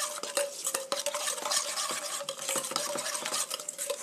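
A spoon stirs sugar into a sedum (돌나물) salad dressing until it dissolves, giving continuous close scraping and clinking against the bowl with irregular taps throughout, no voices.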